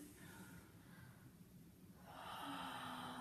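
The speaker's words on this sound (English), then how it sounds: "I'm gonna breathe in." A person draws a single audible breath in, soft and close, building into a stronger inhale toward the end, with no speech.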